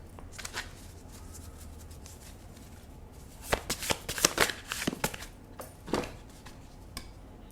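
Tarot cards being shuffled by hand, a soft papery riffle at first, then a denser burst of quick card slaps and flutters in the middle, fading to a few scattered riffles; nobody talks.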